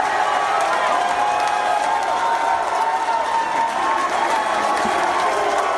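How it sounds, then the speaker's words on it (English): A club crowd roars with sustained applause and cheering as a comedian takes the stage, a dense, loud, continuous wall of clapping and shouting throughout. "Crowd goes wild, up on their feet, jumping up and down."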